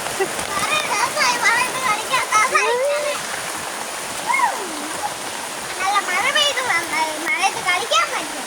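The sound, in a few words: rain pouring, child playing in it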